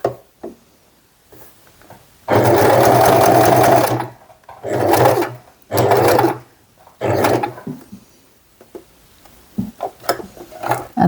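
A sewing machine stitches an adjustable bag strap in bursts, one long run of rapid, loud mechanical whirring followed by shorter runs for pivoting and back stitching, with quiet pauses and small clicks between.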